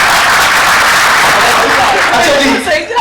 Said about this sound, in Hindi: इसके लिए भी तालियां।